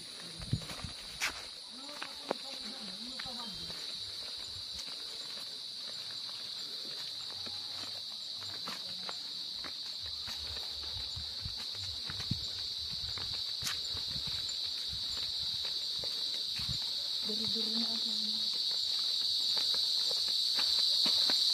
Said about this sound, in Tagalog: malakas na po yung huni ng mga kuliglig